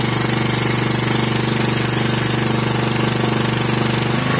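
A propane-fuelled petrol generator runs with no load, a loud, close, steady mechanical drone with a rapid pulsing knock throughout.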